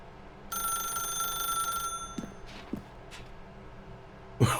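A telephone bell rings steadily for over a second in the video game The Stanley Parable, then cuts off, leaving quiet room tone with a few soft thuds and a closer clunk near the end.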